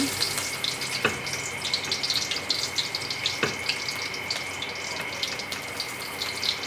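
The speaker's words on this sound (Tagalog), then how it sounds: "Pasalang na yung aking kawali. Ilagay na natin yung bawang." Garlic sautéing in a hot frying pan, a continuous crackling sizzle with a few sharp utensil clicks against the pan, close and fairly loud.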